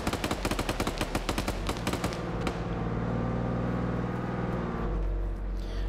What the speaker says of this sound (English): I'm hearing a different autocannon firing